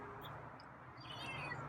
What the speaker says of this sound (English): Hey, that's a louder meow.